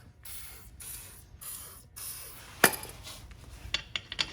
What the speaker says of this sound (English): Spray a little WD-40 on the threads here.